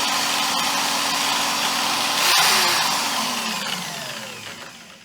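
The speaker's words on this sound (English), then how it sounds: "I won't try and talk over the actual drill" A power drill spinning a wire-stem fishing float against sandpaper whirs steadily at close range, swelling louder for a moment midway before its pitch sags and the motor gradually winds down.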